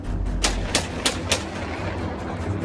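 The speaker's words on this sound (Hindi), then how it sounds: "AK-47 से एक के बाद एक कुल 5 गोलियां चलाता है।" AK-47 rifle fired in a series of four or five sharp, evenly spaced single shots, each a loud broadband crack over a steady rumbling background.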